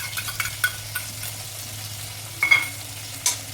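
Crushed ginger, garlic and green chili sizzle softly in a pan for biryani while a utensil stirs them, with scattered scraping clicks and a few louder stirring knocks over the steady frying hiss.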